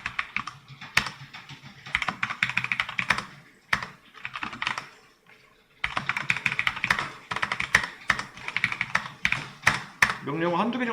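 Steady computer keyboard typing as commands are entered on a Linux server, bursts of quick clicky keystrokes with brief pauses and a speaking voice in between.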